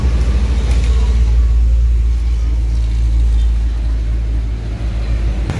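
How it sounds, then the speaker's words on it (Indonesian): An Epastar bus from Bandung pulls into a bus ticket office yard, a close, heavy engine rumble droning steadily throughout and easing slightly toward the end. "Ini bus Epastar dari Bandung baru masuk"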